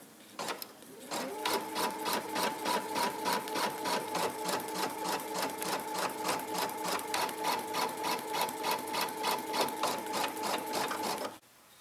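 An embroidery machine stitches out a square outline for an in-the-hoop Post-it note holder, a steady, fast rhythmic needle clatter with a constant motor hum running close and loud for about ten seconds, starting and stopping abruptly.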